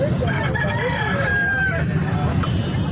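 A rooster crows loudly and close at a busy Nellore poultry market, its drawn-out call rising over a dense rumble of market noise and other fowl.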